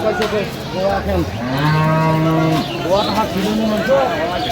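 Dairy cows and calves moo repeatedly at the Aftabganj cattle market in Dinajpur, with long, loud bellows rising close by while people talk in the background.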